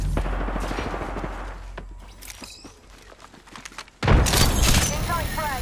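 Bursts of video game gunfire crack out in scattered shots, then a louder close volley erupts near the end, mixed with footsteps and game voice callouts.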